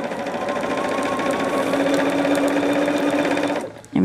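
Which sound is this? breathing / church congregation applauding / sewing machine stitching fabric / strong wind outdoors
sewing machine stitching fabric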